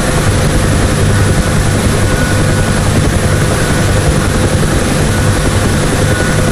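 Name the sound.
UH-1 Huey helicopter hovering, from video game DCS World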